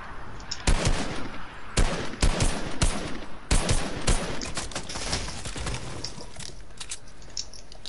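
Rapid bursts of video game gunfire, including machine-gun fusillades, crack loudly in repeated volleys at first and then continue as a denser, steadier stream of shots.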